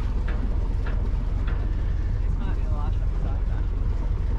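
A boat engine runs steadily as the vessel casts off its shore connection after two months, a constant loud drone with wind buffeting the microphone and people talking over it.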